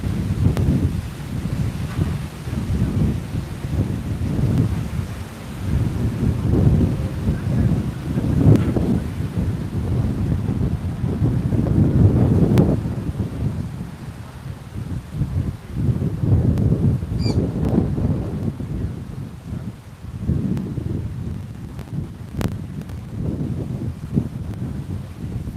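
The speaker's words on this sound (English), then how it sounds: "You can see how windy it is." Strong, gusty wind at a park buffets the microphone in a continuous loud rumble that swells and fades in waves, with no voices.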